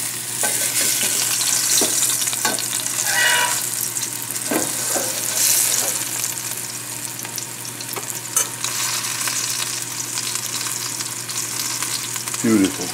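Bronzino fish fillets frying in a hot pan just after being flipped give a loud, continuous close sizzle with a few spatula scrapes, no talking.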